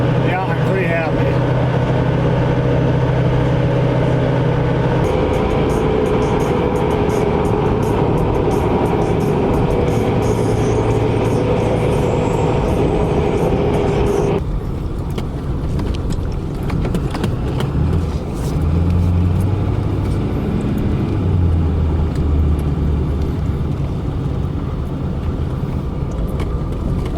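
A new truck on a long highway drive from Louisiana to Minnesota gives a loud, constant engine and road drone from inside the cab, with a voice talking over it.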